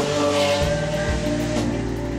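A 2012 Lamborghini Aventador with 691 horsepower is driven on a test track, its engine a loud, steady, close roar with a rich harmonic drone that stays constant without a break and no talk over it.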